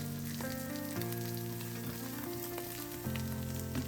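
Eggs frying in a pan, a steady close sizzle held for a few seconds alongside tonal background music, with no voices.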